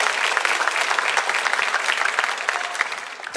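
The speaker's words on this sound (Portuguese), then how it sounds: "Aplaude mais forte que é para o Senhor, não é para mim" A church congregation applauding loudly during a sermon, a dense, continuous roar of many clapping hands that holds steady throughout.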